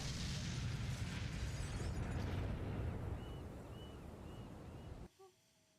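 An explosive barrel blows up in the video game Arcane Odyssey with a loud, broad blast that rolls into a rumbling, fading decay before cutting off abruptly near the end.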